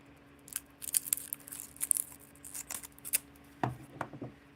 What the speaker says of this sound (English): Where are those scissors again?